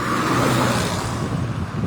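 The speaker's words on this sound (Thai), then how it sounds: "ที่รถติดยาวเลยนะครับ รถติดยาวเลย" Steady road traffic from cars stuck in a long jam in Singburi, Thailand: a continuous broadband engine and tire rumble with some wind buffeting, close and fairly loud, without distinct pass-bys.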